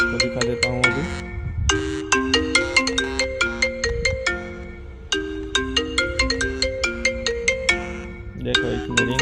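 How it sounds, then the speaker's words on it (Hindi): An iPhone 14 Pro rings with a bright, repeating marimba-like ringtone melody, loud and close, cycling through several phrases with short pauses between them and no talk over it. "देखो, इसमें रिंग बिंग सब बजता है।"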